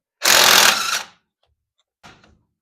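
A socket and ratchet working dirty 9/16 bolts loose on the steering box of a 1957 Chevy, one loud, close burst of mechanical rattling about a second long, then a brief quieter rattle after a pause.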